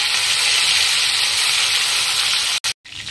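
Bata fish frying in a wok produce a dense, close sizzle that runs steadily, then breaks off abruptly twice near the end before resuming more quietly.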